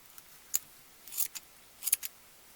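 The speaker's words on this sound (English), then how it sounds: "I'm just going to cut away enough hair so I can see her face." Scissors snip the hair of a candy angel ornament in a few short, crisp cuts, some single and some in quick pairs, close and fairly quiet with silence between them.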